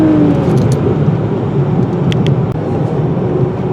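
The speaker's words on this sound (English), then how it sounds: "And we have the sport exhaust sound on." A 2019 turbocharged luxury sedan, either a Mercedes-Benz AMG E53 or a Lexus LS500, drives a bumpy road with its sport exhaust sound mode on, giving a steady loud engine and road drone from inside the cabin with no talking.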